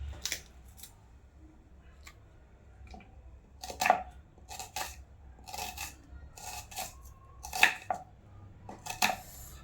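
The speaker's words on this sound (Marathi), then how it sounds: "असे छोटे छोटे कापून घ्यायचे." A knife cuts tomato and onion into small pieces for rice-flour appe, giving a run of sharp, close chopping taps and clicks at uneven intervals over quiet room hum.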